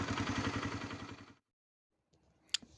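A Honda CBR 125 motorcycle runs during an oil change, its small engine idling with a steady low pulsing for over a second before cutting out, followed by quiet clatter and a sharp tap.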